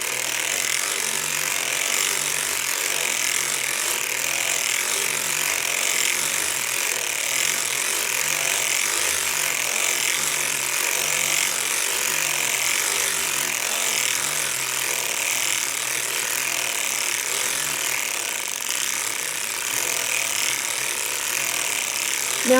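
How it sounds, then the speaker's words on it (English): A hand-cranked circular sock knitting machine turns round after round for a hem, giving off a continuous, even ratcheting clatter of gears and needles at moderate volume, uninterrupted and with no voices. "I'm going to knit 20 rounds for the hem."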